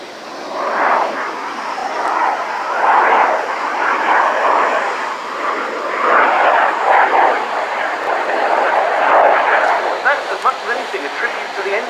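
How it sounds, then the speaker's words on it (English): A jet fighter, a MiG-29 or Su-27, performs at an airshow display at Fairford, its engines a loud, sustained roar that surges and wavers throughout as a commentator talks over it. "A tribute to the engine performance of the aircraft"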